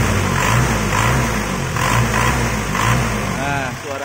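A 1999 Isuzu Panther Grand Royal Plus diesel engine is revved in short repeated bursts over a steady low rumble, recorded loud and close. Someone talks over the engine throughout.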